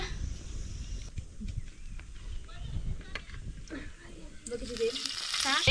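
Turmeric and garam masala hit hot oil in a pan over a wood-fired village chulha, with a steady close sizzle and frying crackle running under ongoing talk.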